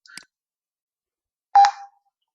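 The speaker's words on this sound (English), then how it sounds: "I hope you heard that small beep sound." A small computer alert beep from a C program's escape sequence: one short, clear electronic tone near the end, preceded by a faint brief click, with silence between.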